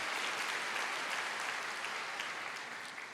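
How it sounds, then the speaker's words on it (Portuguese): Congregation applauding during a church service, a dense wash of clapping at low level that runs evenly throughout and fades slightly at the end, with no voices over it. "Primeiro dá uma salva de palmas, você nem sabe o que é, mas já aplaude"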